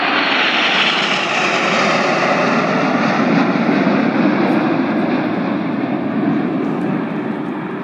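Loud, continuous roar of Red Arrows jet engines overhead at Yeovilton Air Day, flying in flanker formation, a broad rushing drone that holds steady and fades slightly at the end.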